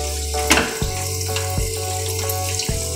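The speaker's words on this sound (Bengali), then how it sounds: "এবার একটা দিয়ে আমরা ভেজে উল্টে পাল্টে লাল করে ভেজে নেব।" Spinach kofta balls sizzle steadily in hot oil over a lowered gas flame, a continuous bubbling hiss with a few sharper clinks of utensils and no voices.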